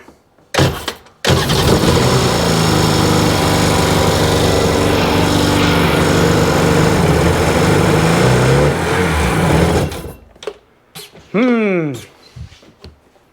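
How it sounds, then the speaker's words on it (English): An air compressor runs loud and steady for about nine seconds during repair work on a 2002 Sea-Doo GTX DI, then shuts off. A few brief mechanical sounds follow. "Air compressor hooked back up."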